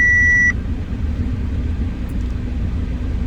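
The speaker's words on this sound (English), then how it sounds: "The car idling with AC at 1000" A silver 2010 Audi A4 2.0 TDI S-Line sedan idles at about 1000 rpm with the air conditioning running, a low steady diesel rumble and fan hum, preceded by a short electronic beep at the start.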